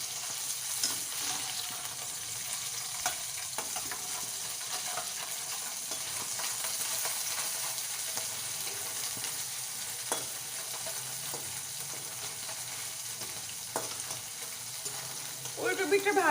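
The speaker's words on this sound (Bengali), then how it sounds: "কড়াইতে তেল গরম বসিয়ে আমি মাছগুলো ভেজে নেব" Tangra fish fry in hot oil in a wok with a soft, continuous sizzle and scattered spits and pops, fairly faint and without talk.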